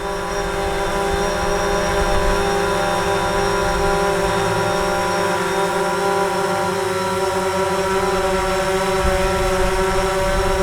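A DJI Phantom 4 quadcopter drone hovering in a park while trying to land, a loud, steady, high buzzing whine with layered tonal hum that holds constant throughout.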